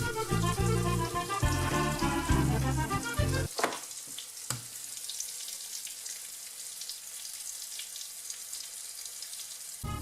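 Butter melting in a hot pan, a crackling sizzle that follows a burst of running tap water at the start, then settles into steady, moderate frying.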